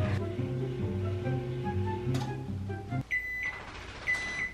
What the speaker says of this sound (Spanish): Tratar de cocinarlo en el microondas. Por favor, microondas, funciona esta vez.